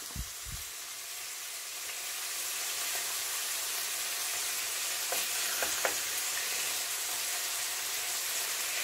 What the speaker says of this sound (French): Je vais faire revenir l'oignon jusqu'à ce qu'il devienne translucide.